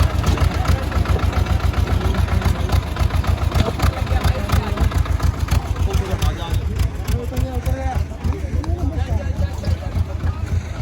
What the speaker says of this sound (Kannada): ಸೊನಾಲಿಕಾ ಟ್ರ್ಯಾಕ್ಟರ್